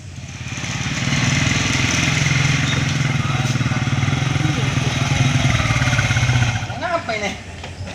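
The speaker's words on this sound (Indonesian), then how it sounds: "ngapa itu motornya? Tahu nih tiba-tiba mati" A motorcycle engine idles loud and close with a steady rumble for several seconds, then sputters and cuts out, followed by quieter rattles and people talking.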